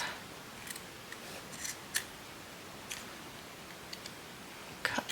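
Crisp snips of scissors cutting paper for a scrapbook page layout, several separate cuts at irregular intervals, close and fairly quiet against a soft background hiss.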